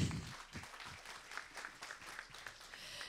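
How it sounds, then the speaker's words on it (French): An audience applauds in a conference room during a workshop, a soft, steady patter of many hands heard from a distance and fairly faint, continuing throughout. "Je vous demande de faire un tonnerre d'applaudissements à Rémi Loquet et Aline Lemoin."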